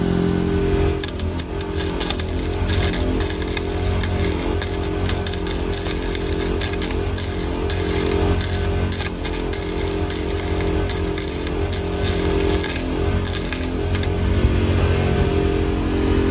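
Welding a trailer swivel jack stand in place along its top and sides, a steady dense crackling buzz that runs unbroken and fairly loud throughout, with a low electrical hum beneath and no talking.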